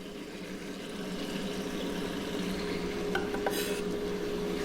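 Onions going into a hot pan with the open side up give a steady sizzle and frying hiss, along with faint clinks of cookware and utensils, close and continuous.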